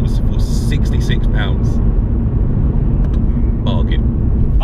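A Mercedes-AMG C63's engine and exhaust drone loudly and continuously, with a deep, steady rumble and some voice sounds mixed in over the mechanical roar.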